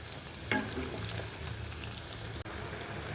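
Turnips fry in a pan over a low flame with a steady, soft sizzle and occasional light stirring clicks throughout.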